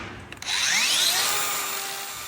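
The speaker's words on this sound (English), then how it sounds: "I'm only using the grinder here to scuff this foot up" An angle grinder lightly scuffs the surface of a cow's hoof during hoof trimming, a loud, close whining grind with a gradually shifting pitch that holds steady for about two seconds after a few brief taps.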